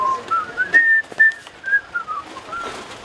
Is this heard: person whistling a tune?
yes